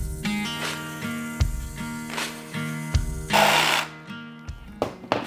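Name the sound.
jigsaw cutting out fireplace pieces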